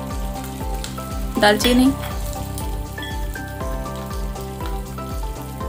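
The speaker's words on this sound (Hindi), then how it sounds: "स्टार एनिस डाल के अच्छे से फ्राई करेंगे।" Whole spices including cumin, curry leaves, cinnamon and star anise frying steadily in hot oil for palak pulao, a continuous close sizzle with a brief louder burst, as someone speaks over it.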